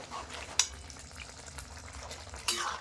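Ground mustard and poppy seed paste is stirred into fish curry frying in a pan. The sizzle stays soft and even, with a couple of sharp scrapes of the spoon against the pan.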